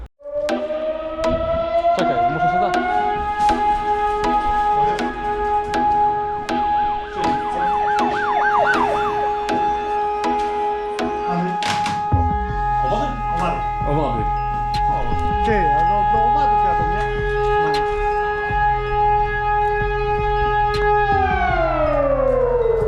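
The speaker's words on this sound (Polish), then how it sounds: "syrena wyje" A loud, sustained fire station siren at a volunteer fire brigade in Witnica, Poland wails continuously with rising and falling tones, joined by a second pulsing alarm partway through; no other sounds stand out.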